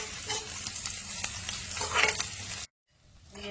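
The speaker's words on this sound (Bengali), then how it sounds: "অল্প একটু রসুন দিয়ে দিলাম এর মধ্যে। এবার ভাজতে থাকবো।" Garlic frying in hot oil in a pan with onions, giving a close, crackling sizzle broken by scraping stir strokes. The sound cuts off abruptly near the end, then a faint background hum returns.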